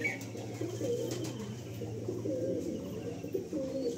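Pigeons, including green pigeons, coo in a loft. The soft, low, repeated cooing runs steadily throughout, close and fairly quiet, with no talking.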